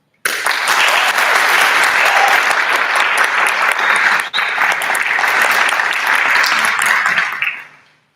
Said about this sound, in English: the motion passes and you can now clap your hands